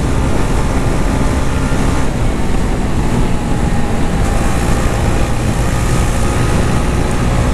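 A TVS Ronin 225 motorcycle runs flat out at top speed in fifth gear, its engine drone buried in a loud, constant roar of wind rushing past, steady for the whole stretch.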